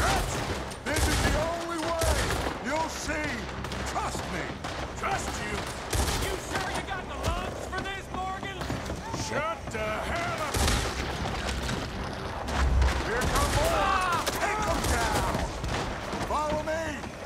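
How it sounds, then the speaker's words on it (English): Rapid bursts of video game weapon fire crackle almost continuously, loud and dense, with a voice talking over the shooting throughout. "You guys have me shooting with these weapons?"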